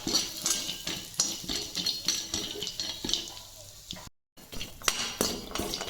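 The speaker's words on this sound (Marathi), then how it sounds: "तीन चार मिनिट हळद मी चांगली परतून घेतली" Turmeric stirred and roasted in a little oil in a kadhai: repeated scraping and clinking of a spoon against the metal pan over a faint sizzle, close and rhythmic, with a brief dropout near the end.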